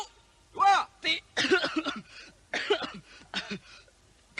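A soldier standing in formation at roll call coughs in a series of harsh, voiced bursts spread across several seconds, close and fairly loud.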